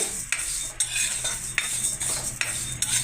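Moong dal being dry-roasted in a pan, with regular scraping and clinking of a spoon against the metal every half second or so and only a faint sizzle beneath, close and clear.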